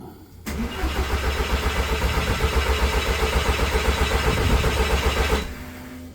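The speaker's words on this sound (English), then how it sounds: "We're going to do a little bit of cranking, see how long that takes to come up." A car engine cranks with its injectors unplugged, giving a loud, even, rhythmic starter churn that runs for about five seconds without firing, then stops abruptly into quiet.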